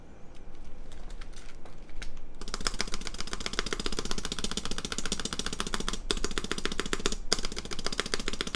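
Rapid, steady typing on a Space Invaders-themed Sensy Lab Seal80 mechanical keyboard, with a heavy spacebar thocking among dense, continuous clicky keystrokes at close range, with no speech.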